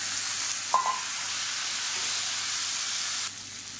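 Four finely chopped tomatoes go into hot oil in a pan for a simple chutney, giving a steady, even sizzle close by that runs without pause, with one short clink near the start.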